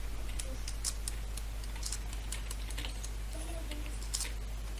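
Rapid clicking of a computer keyboard being typed on during a Minecraft Hunger Games match, irregular keystrokes close by over a steady low hum.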